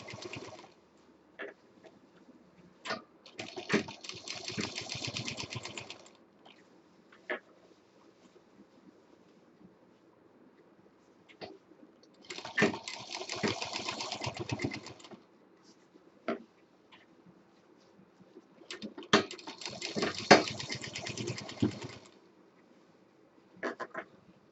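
A sewing machine stitches a heart-shaped fabric party bag in three bursts of rapid, steady whirring, each a few seconds long, with quiet pauses and small clicks of handling between them.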